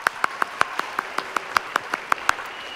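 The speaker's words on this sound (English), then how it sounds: "Give the Hollis students a round of applause." Applause at a clean water event for students, heard as sparse, evenly spaced claps in a steady rhythm, about a dozen distinct hand claps over a faint background.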